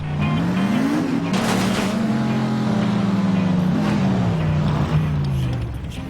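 Car in the Xbox 360 game The Saboteur driving along country back roads, its engine droning loudly with a wavering, rising and falling pitch over about six seconds, no speech.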